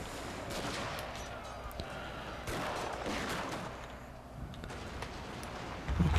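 Rifle fire from sharpshooters on a wall shooting at cavalry in the strategy game Total War Shogun 2: Fall of the Samurai, a continuous crackling fusillade of scattered shots over a dense battle din.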